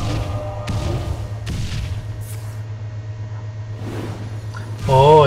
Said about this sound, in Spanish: explosión arcana y me lo mata